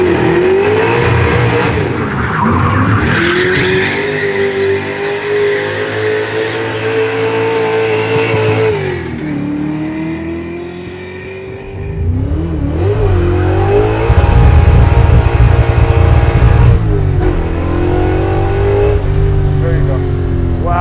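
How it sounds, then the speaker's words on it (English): 1966 Shelby GT350H converted into a B production race car drives hard, its engine revving and rising through gears with pitch sweeps, a dip as it lifts off, then loud roaring acceleration again, with voices talking over it. "66 GT350H converted into a B production race car"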